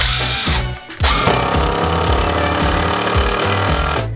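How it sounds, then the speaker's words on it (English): An impact driver running at close range with a loud, dense hammering rattle over its motor whine, briefly stopping near the one-second mark and then resuming steadily. "An impact driver, from what I understand, not only does this rotate, but it has a hammer-like motion on the inside."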